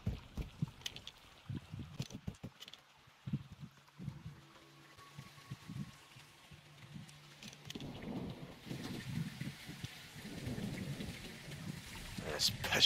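Heavy rain and thunder in a Modern Warfare 2 campaign mission, a steady wash of downpour with low rumbles, thickening toward the end, with brief game voices scattered underneath.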